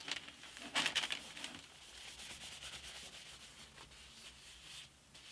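Cloth rubbing excess tung oil off a wooden guitar stand, a soft steady scrubbing with a louder burst of strokes near the start, then quieter continuous wiping.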